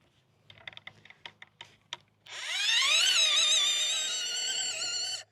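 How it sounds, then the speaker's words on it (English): Several light clicks come first, then a 9-inch auger on a power drill spins up with a rising motor whine as it bores a planting hole in garden soil, holding a loud, steady hum for about three seconds. "I think I'm gonna use the 9-inch auger for pretty much everything today."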